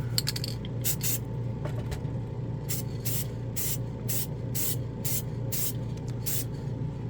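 Bursts of Testors enamel red paint from a spray can hiss close up in about a dozen short, evenly spaced pulses, each lasting about a third of a second, over a low steady room hum.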